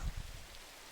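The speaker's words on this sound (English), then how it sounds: "let me get out of this rain" Rain in Minecraft, a steady, faint hiss of falling drops with a soft low rumble at the start, heard alone with no talking.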